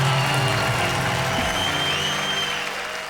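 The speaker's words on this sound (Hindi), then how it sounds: "जोरदार तालियों के साथ।" Dense applause from an audience, a steady wash of clapping that holds loud and then eases slightly.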